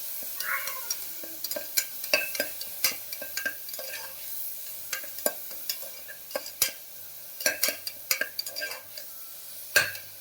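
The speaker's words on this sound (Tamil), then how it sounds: "நல்லா வெங்காயத்தை வதக்கிக்கணும்." Onions being sautéed for mutton soup: a steady pan sizzle broken by frequent sharp scrapes and clinks of a stirring spoon against the pan, close and clear.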